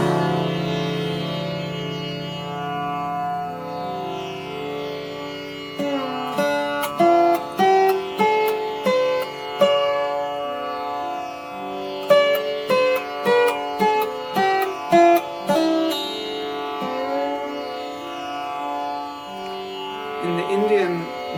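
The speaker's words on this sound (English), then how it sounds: "So I'm going to just demonstrate now the Raga Bhimpalasi, but in the scale form." A crystal slide guitar, a fusion of sitar and Hawaiian slide, plays the Raga Bhimpalasi as a scale: a sustained low drone, then clear plucked notes stepping up and back one at a time, ringing and gliding.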